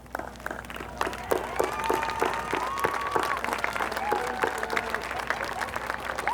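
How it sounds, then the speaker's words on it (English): A graduation audience claps in sustained, dense applause, steady and moderately loud throughout, with a few faint voices mixed in. "give their families a round of applause"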